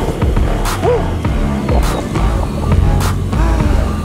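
Engine of a 490 bhp supercharged VW Golf R32, a loud, dense, continuous low drone that swells and dips with a few sharp broadband bursts over road roar.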